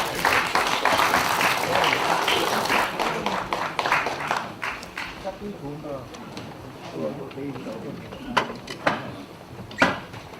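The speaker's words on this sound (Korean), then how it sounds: "큰 박수 부탁드립니다" Applause from assembly members at a Liberty Korea Party lawmakers' conference opening ceremony, a dense wash of clapping that thins out over about ten seconds with a few louder isolated claps near the end.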